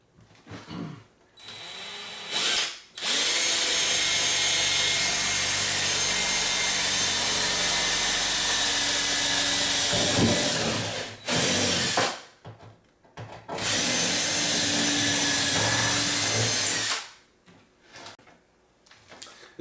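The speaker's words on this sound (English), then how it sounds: "But let's see if we can get a hole drill here." A power drill grinds through an old house wall in two long sustained runs with short pauses and brief bursts between, loud and close.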